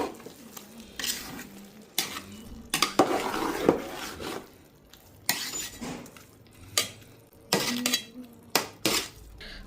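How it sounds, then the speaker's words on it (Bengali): Pulao being stirred and turned in a pot, with a metal spoon scraping and clinking against the pot in irregular strokes over a faint sizzle, close and without talk. "এখন আবারও আমি একটু নেড়ে চেড়ে উল্টিয়ে পাল্টিয়ে দিচ্ছি।"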